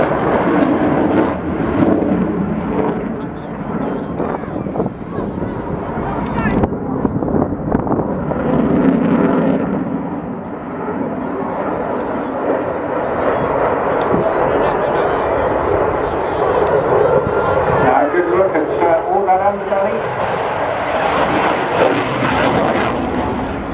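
A Eurofighter Typhoon jet displays at the English Riviera Air Show, a loud, sustained engine roar that swells and shifts as it maneuvers, with a commentator speaking over it throughout.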